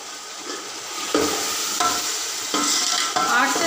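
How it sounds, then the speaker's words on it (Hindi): Coriander seeds and cumin dry-roasting in a pan as a spoon stirs them, with repeated scraping strokes and a light crackle, close up and fairly loud, no voices. "आठ से दस मिनट तक अच्छी तरह इसको भूनना है।"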